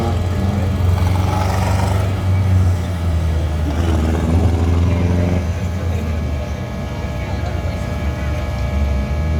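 A race car at a speedrome oval pulls away under its own power after a red flag, its engine droning loud and steady throughout with a slight pitch rise, crowd and track noise mixed in.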